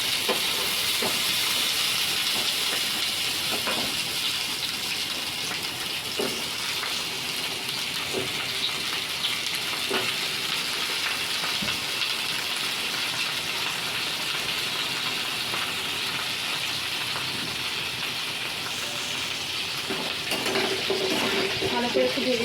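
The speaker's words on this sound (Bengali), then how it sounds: "ভালো করে একটু ভেজে নেব।" Pumpkin and cauliflower frying for khichuri, a steady close sizzle with occasional stirring clinks of a utensil in the pan, continuous and unbroken by talk.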